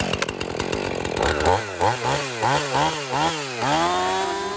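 A STIHL battery chainsaw whirs close by, its motor winding up and down in several quick rhythmic surges before settling into a steady high whine.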